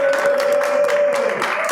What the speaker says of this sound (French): peux-tu t'avancer s'il te plaît? Applaudissez-le.